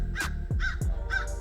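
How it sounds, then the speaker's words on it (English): Loud crows cawing nearby, three harsh caws in a steady rhythm with no one speaking. "Man, these loud birds."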